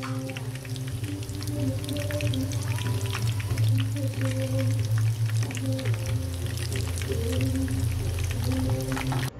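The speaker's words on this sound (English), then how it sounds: "Fry your shrimp until golden brown and set aside." Shrimp tempura frying in a pan of hot oil, a steady dense sizzle and crackle running close and loud the whole time, with a low tonal hum underneath and no talking.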